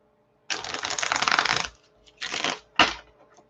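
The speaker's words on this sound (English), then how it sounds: "So I'm just going to pull a few tarot cards for the week ahead." Tarot cards are shuffled in a long riffling burst, then two shorter flicks follow as cards are pulled, close and crisp against a quiet room.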